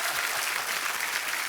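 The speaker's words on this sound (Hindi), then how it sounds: "तो बड़ा जोरदार तालियां" A studio audience at a comedy talk show claps in a dense, even burst of applause that fills the short moment without pause.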